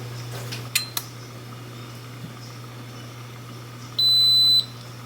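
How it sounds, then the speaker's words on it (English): Faint clicks and a small clatter, then one steady electronic beep lasting about half a second against a low steady hum, as an Instant Pot pressure cooker switches over to start its cooking cycle. "The pot just beeped and it cut over from saying on to 25 minutes"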